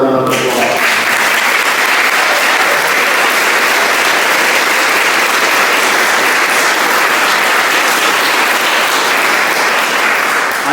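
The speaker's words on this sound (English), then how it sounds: "Let's give them another round of applause" Sustained, loud applause from a large university convocation audience rolls on at full strength without break, a thick, even roar of countless hands, with a voice briefly audible at the very start.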